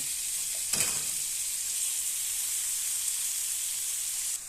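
Tomato dropped into cooked spiced masala and frying, a loud, even, hissing sizzle that holds steady throughout, with one brief clatter near the start.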